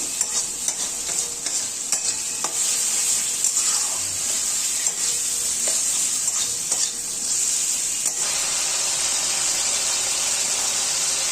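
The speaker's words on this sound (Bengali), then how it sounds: "এবারে আমি এটাকে ভালো করে একটুখানি কষাবো" Bottle gourd with masala and a pinch of sugar is sautéed in hot oil, sizzling steadily and loudly close up while a spoon stirs and scrapes the pan at intervals, with no one talking.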